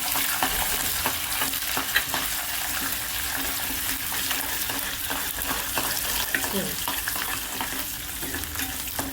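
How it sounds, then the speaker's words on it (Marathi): Oil tempering with green chilies, curry leaves and spices frying in a pan for poha: a continuous close sizzle with rapid crackling spatters and pops, fairly loud and steady, with no voices. "ही फोडणी तयार होत आली आपण"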